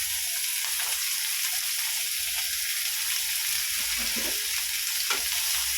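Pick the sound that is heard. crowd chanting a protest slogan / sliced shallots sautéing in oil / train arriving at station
sliced shallots sautéing in oil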